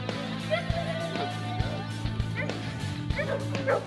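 Hunting dogs bark and yip eagerly at the start of a driven hunt, a mix of sharp barks and whimpers at moderate distance over a steady low hum, with faint voices in the background.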